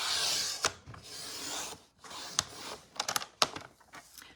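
Rasping, scraping strokes of card stock being trimmed for a handmade stamped greeting card, a long rough swipe followed by several quick clicks and scratches, close and quiet, with no voices.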